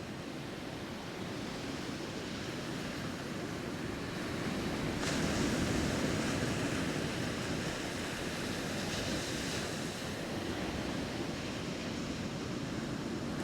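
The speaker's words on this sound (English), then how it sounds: "Maybe you can match your breath with the waves that are here with us." Ocean waves breaking on the shore during an oceanside yoga session, a continuous broad roaring wash of surf that swells slightly midway, steady and fairly close, with no talking.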